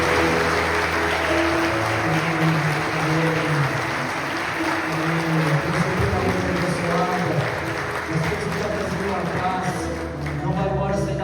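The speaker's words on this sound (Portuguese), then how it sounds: "Você pode aplaudir essa equipe aqui," A church congregation applauds a team at an Easter service, with steady, sustained clapping filling the room throughout and voices mixed in beneath the applause.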